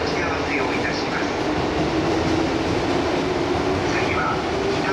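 A commuter train sits at or runs past a station platform in the Tokyo area, a steady, loud rail rumble continuing throughout while a voice talks over it.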